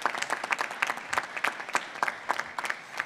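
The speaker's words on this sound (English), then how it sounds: "A round of applause for all of you." Audience applause fills a summit hall at a tech center event: a steady, dense round of clapping with uneven peaks, close and fairly loud throughout.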